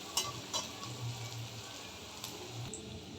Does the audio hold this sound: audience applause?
no